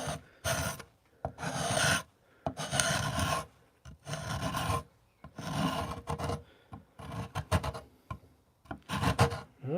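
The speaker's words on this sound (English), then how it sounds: "So I'm just going to give that a little bit of a scrape." Hand scraping along a long, flat wooden guitar fingerboard blank against the grain, a series of rasping strokes in steady rhythm with short pauses between, close and fairly loud with no talk.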